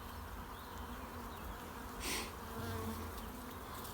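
A steady, dense buzz of many bees swarming close by a hive in a forest, continuous throughout with a brief louder swell partway through.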